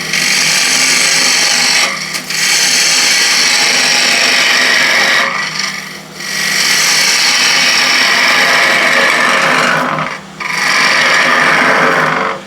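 An ash box turning on a wood lathe while a gouge levels its top, giving a steady, close, loud rasping scrape that breaks off briefly three times before resuming.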